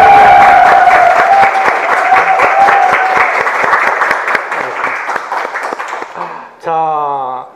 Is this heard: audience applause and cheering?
yes